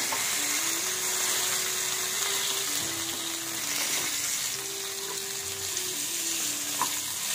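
Bangda (mackerel) fish frying in oil in a pan, a steady close crackling sizzle with a low hum running throughout, no talk.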